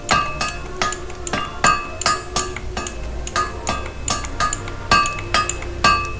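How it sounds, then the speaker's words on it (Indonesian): In the Survive the Wild video game, metal is hammered to craft a sword: about a dozen sharp, ringing clanks strike in a steady rhythm, each leaving a short metallic ring, with no talking. "Oke, kita kombinasikan dengan palu, lalu tekan T pelan-pelan saja."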